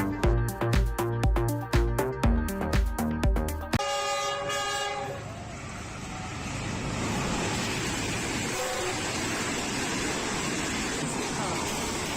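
A passenger train pulls into Rohri junction in Pakistan, with a loud, repeated horn blaring in pulses at first, then a steady rumble and clatter of the carriages rolling close by.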